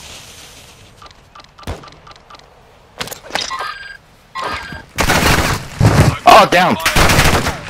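Gunfire in the Call of Duty: Modern Warfare II video game, with a few sparse early shots followed by dense bursts of loud automatic fire over the last few seconds, while a player shouts briefly.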